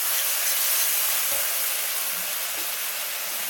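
Pond snails sauté in a hot pan for a snail curry, giving a steady, loud broadband sizzle and hiss that runs evenly throughout with no talk.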